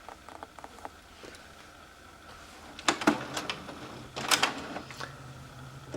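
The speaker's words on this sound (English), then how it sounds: "our calibration sheet is going to be printing here" A home printer runs off a Cricut print-then-cut calibration sheet, with faint mechanical whirring and clicks followed by two louder bursts of feed and carriage noise nearby.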